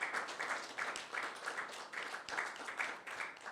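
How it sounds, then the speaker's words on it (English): Applause from the audience at an upstairs salon event with artists, a continuous patter of clapping hands that swells and dips slightly, moderately loud and without voices. "Let's give her a round of applause for this beautiful work."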